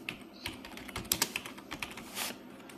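Quiet typing on a computer keyboard into Notepad on Windows 11, with soft, irregular clusters of key clicks and brief pauses between them.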